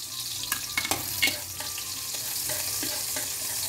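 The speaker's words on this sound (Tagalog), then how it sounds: "dahil mainit na yung ating mantika, maglalagay tayo ng ating sibuyas at saka bawang" Onion and garlic fry in hot oil in a home kitchen, a steady close sizzle with light stirring and scraping taps over the first seconds.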